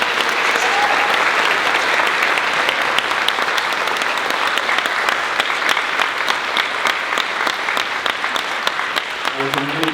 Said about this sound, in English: Everyone, please give Todd a big round of applause